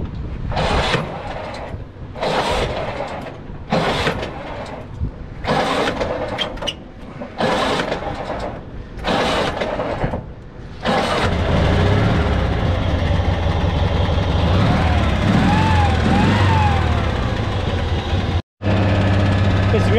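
An M274 A2 Mechanical Mule engine is pull-started with a series of hard, repeated cranking bursts, then catches and settles into a steady, loud, close idle with the choke pulled out.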